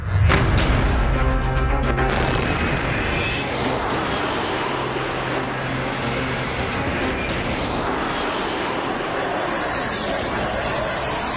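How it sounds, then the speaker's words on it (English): Russian fighter jets flying, a loud roaring jet engine sweep that opens strong and then settles into a steady, slightly fading rumble, no talk. "It is using its fighter jets to hit key Ukrainian cities."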